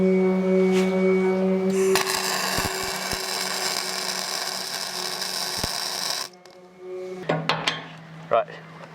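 A power tool grinds loudly and steadily against the corner of a steel boat hull in a workshop, cutting in abruptly and running for several seconds before stopping, followed by scattered metallic clanks and knocks.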